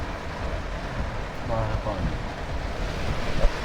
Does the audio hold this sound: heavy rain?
yes